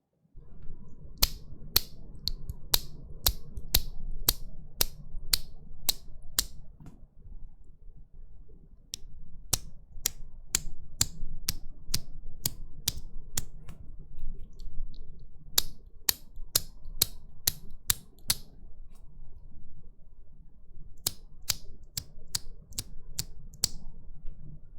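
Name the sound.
JWK mechanical keyboard switches being typed, high-pitched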